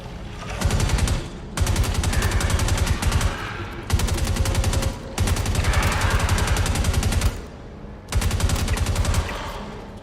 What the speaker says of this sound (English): I'm a little unimpressed by the grenade launcher.